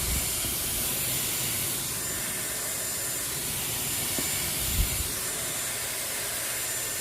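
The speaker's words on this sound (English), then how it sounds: "I like to pre-treat my hair with the Dyson Omega Spray." Steady, even hiss of a Dyson hair spray being applied to hair as a pre-treatment, continuous with no pauses and no voices.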